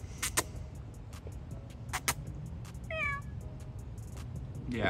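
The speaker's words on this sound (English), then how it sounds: "There's a kit under my car somewhere." A kitten meows from under a car, one short rising-falling cry around the middle, faint against a low steady background rumble with scattered clicks.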